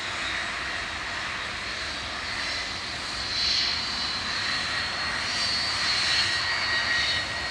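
An aircraft departing Manchester Airport on a flight to Mahon, Menorca, gives a steady, fairly loud engine roar with a hissing high edge that swells slightly midway and toward the end, with no voices over it.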